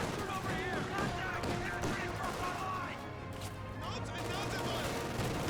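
Gunfire and anti-tank rifle grenades in a Company of Heroes 2 battle: dense, continuous bursts of rapid shots and crackling fire with heavier impacts, loud and layered, while a voice talks over the action.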